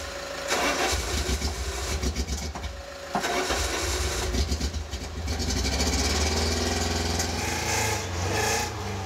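A stubborn race car engine is cranked repeatedly on a cold morning before it catches, with uneven starter churning and sputtering bursts that settle into a loud, rough idle close by.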